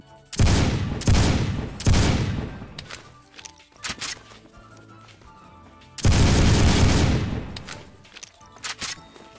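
Desert Eagle pistol spam-fired in the game Phantom Forces: two loud, dense bursts of rapid shots, the second starting about six seconds in, with scattered single reports and a quieter lull between them.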